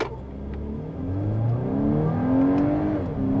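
A 2024 Volkswagen Atlas pulls away from a stop, its engine note rising smoothly through the gears in a moderate, steady drone heard from inside the cabin.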